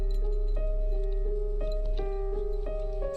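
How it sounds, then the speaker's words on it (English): A slowed, time-stretched song plays dry with no added effects, its steady sustained tones broken by regular soft percussive hits, continuous and fairly loud, with no voices. "just the stretching itself will sound like this."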